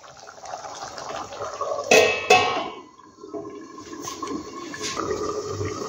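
Dal simmering and bubbling in a pot with salt, spices and tempering, a steady watery burble with a couple of louder splashy bursts partway through.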